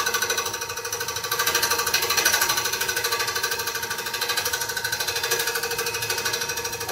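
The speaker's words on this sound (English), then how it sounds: "If you listen to the sound, you can tell that the bow is no longer round. It's hitting high spots." A wood lathe spins an out-of-round bowl blank while the cutting tool chatters against its high spots, a rapid regular buzzing pulse that stays loud and steady throughout with no talking.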